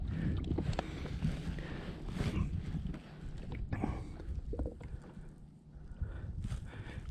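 Kayak gliding on open water during a fishing trip, with close splashes and paddle sloshes over a rumble of wind on the microphone.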